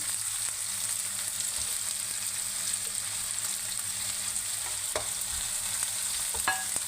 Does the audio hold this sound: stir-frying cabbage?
yes